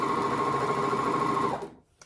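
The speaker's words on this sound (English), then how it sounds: "So I'm gonna serge right down the middle of my seam." A serger sews right down the middle of a seam on valance fabric, a loud, close, steady motor whirr that holds for about a second and a half and then winds down and stops.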